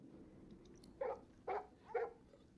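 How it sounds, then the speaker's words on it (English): A dog barks three times in a steady rhythm inside the video game Divinity: Original Sin 2, each bark short and clear, close up over a low ambient game hum. "Just barking."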